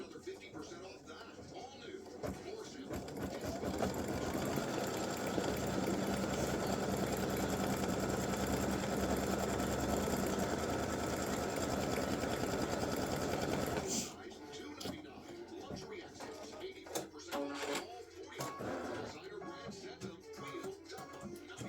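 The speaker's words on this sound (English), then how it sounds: "color stop number 7 is going to do the placement lines for his pants" An embroidery machine stitches appliqué placement lines for a Santa pants design, a steady loud rapid mechanical whirr that runs for about eleven seconds and then stops, followed by quieter handling clicks and rustles.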